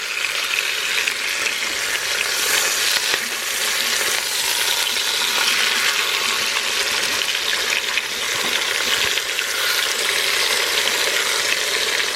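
Food searing in a metal DEENKEE 10-in-1 pressure cooker pot, a loud, dense, continuous sizzle heard up close with faint tong movement.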